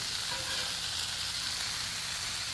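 Continuous bright sizzling and crackling of food frying on a Blackstone griddle, steady and close with no break.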